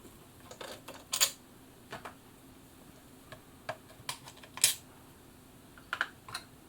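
Small screws being turned out of the lid of a Bernina 810b sewing machine, heard as sparse, light metallic clicks and ticks in short irregular bursts, close by in a quiet room.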